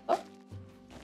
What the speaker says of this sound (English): My dog is coming to join me.